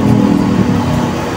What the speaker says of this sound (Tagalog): Yan, na-warm up ko na yung makina.